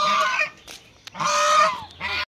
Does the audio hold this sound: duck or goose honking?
yes